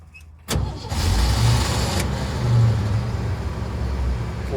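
A 1981 Jeep CJ-7 with a 4.2 engine, left sitting for weeks, turns over and catches abruptly, then settles into a steady, close, even-running engine rumble with no talk.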